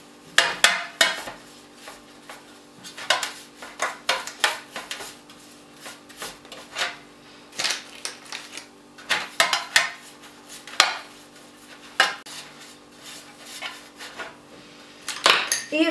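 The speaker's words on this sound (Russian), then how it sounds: "Дальше берем посуду и смазываем ее маслом." A baking dish is greased with butter for cinnamon rolls, with repeated scraping, rubbing strokes and light clinks of the dish against a kitchen counter. The sounds come close and irregular, with short pauses and no talking.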